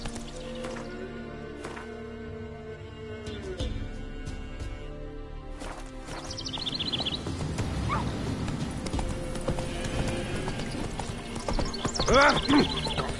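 Horse hooves clip-clopping at a run through woods in a video game, a steady rhythmic patter with an occasional whinny, under game music and effects.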